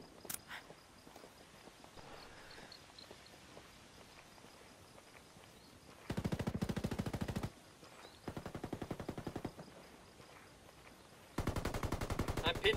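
Video game gunfire: three loud bursts of rapid automatic fire, each lasting one to two seconds, separated by quieter stretches with scattered single shots and background game noise.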